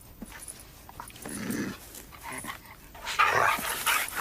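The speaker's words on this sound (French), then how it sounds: "Sortez ce chien d'ici." A dog gives a few short barks and yips indoors, brief sharp bursts spread across a few seconds.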